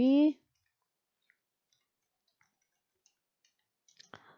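Faint, sparse mouse clicks spaced through a quiet stretch while drafting an architectural elevation drawing on a computer, following a brief spoken voice at the start.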